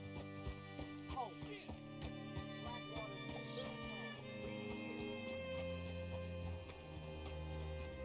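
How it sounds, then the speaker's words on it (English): Horse hooves clip-clop in the Western video game Red Dead Redemption 2, light, uneven thuds running throughout under background music and ambient sound. "Hitch your horse up here."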